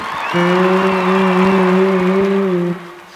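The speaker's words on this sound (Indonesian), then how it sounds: "tepuk tangan dulu" Guests at a Batak party applaud together in a steady burst of clapping lasting a few seconds, with a sustained musical tone ringing underneath before it drops away.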